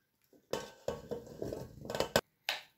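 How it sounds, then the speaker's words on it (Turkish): Salt-cured black olives being tipped into a pot lined with salt, a run of clattering, rattling pours with clinks against the metal, ending in a sharp knock and one last short pour. "Şimdi zeytinlerimi bu tuzun içerisine dolduruyorum."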